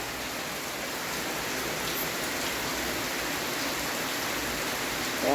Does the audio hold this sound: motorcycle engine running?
no